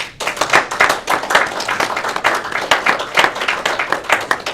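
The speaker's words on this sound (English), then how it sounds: "start clapping, guys" A small group claps at a high school meeting, fairly close and lively, with uneven individual hand claps forming a continuous patter for the whole stretch and no talking.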